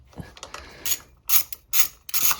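A ratchet with an 8mm socket undoes cover bolts on a ZX6R motorbike. Several short bursts of clicking come up close and fairly quiet, separated by brief pauses, with no talking.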